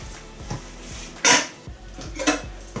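A Santoku kitchen knife is picked up and handled near a magnetic knife rack, giving a few close metallic clinks and one sharper scrape over a quiet kitchen background.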